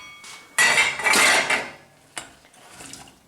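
Chopped onions tumble into a pan with a clattering rush, followed by a couple of short knocks and scrapes of metal cookware, close and fairly loud.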